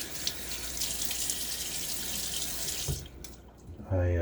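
Steady tap water runs and splashes into a sink as a face is rinsed during a wet shave, then cuts off. A voice begins at the end.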